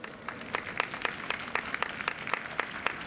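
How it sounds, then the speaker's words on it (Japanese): Faint, sparse applause at a track stadium after the women's 800m final at a Chiba prefectural championship, with distinct claps spaced across a thin background. "決勝走った初めにどうぞ大きな拍手をお願いいたします。"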